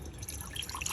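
A cup of water is poured into a pan sitting on an unlit stove while baby food is made at home, heard as a faint, close trickle and splash.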